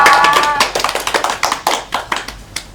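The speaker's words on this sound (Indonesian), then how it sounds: "Tepuk tangan untuk Kamila." Classroom audience clapping during a microteaching session, a run of separate hand claps, close and fairly loud at first, then settling into a steady rhythmic pattern that gradually softens.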